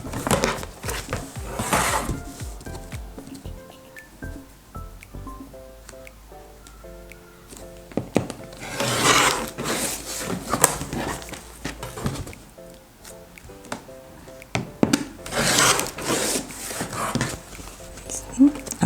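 Scissors cut through fabric and interfacing pieces for foundation patchwork, sporadic crisp snips and rustles of cloth that come in bursts, with someone talking quietly throughout.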